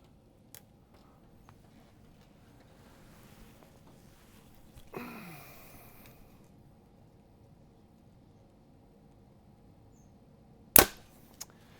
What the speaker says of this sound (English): shooting a bow peaked at 30 inches